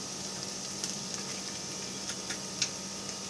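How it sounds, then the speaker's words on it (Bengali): Onion and spices fry in a pan with a soft, steady sizzle, punctuated by a few light ticks and pops, fairly quiet and close with no talking. "এরপর পেঁয়াজটা হালকা ভাজা হয়ে গেলে এখানে অ্যাড করে দেবো"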